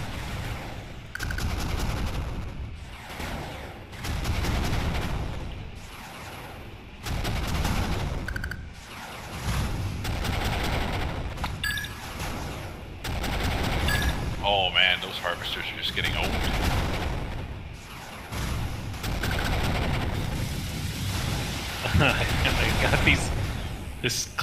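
Repeated booming artillery fire from a cluster of six guns on a perimeter in the 8-Bit Armies strategy game, loud bursts and volleys recurring throughout, with talk over much of it.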